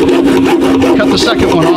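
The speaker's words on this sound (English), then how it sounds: "so we're just gonna use the hacksaw," A hacksaw cuts through part of a rain barrel during a rainwater collection build, making loud, close, evenly spaced back-and-forth rasping strokes with a steady rhythm.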